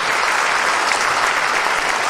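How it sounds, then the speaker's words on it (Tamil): A conference hall audience claps steadily at a closing ceremony, a dense, even wash of applause from many hands that stays loud for the whole short stretch without a break. "இந்த கைத்தட்டல் அனைத்தும் உங்களுக்காகவே"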